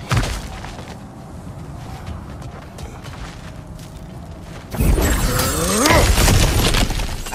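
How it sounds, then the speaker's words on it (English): In God of War Ragnarok, objects are smashed apart in a sudden loud crash of shattering and breaking debris, preceded by quieter rustling and thuds. "Back to smashing through things for fun and profit."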